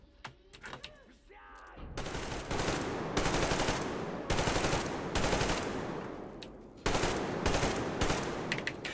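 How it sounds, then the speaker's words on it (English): Gatling gun fire in the Metro Exodus video game: loud, sustained bursts of rapid automatic fire separated by short pauses, after a brief quieter opening. "BFG, big fucking Gatling"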